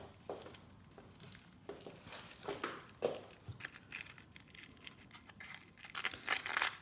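Paper packaging is torn and crinkled up close as a parcel is opened, in short, irregular bursts, quiet between rips.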